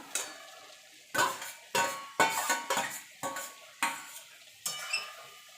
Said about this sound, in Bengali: এবার ভেন্ডির সঙ্গে আর মশলার সঙ্গে ভালো করে মিশিয়ে নেব